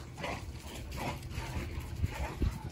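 A well-bred stud dog whimpers softly and repeatedly in short, faint whines, with low background noise and no speech.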